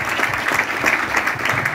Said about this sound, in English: Please give a round of applause to St.